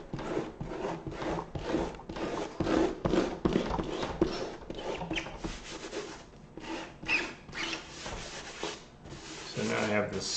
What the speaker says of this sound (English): And I'll take my pickup eraser here.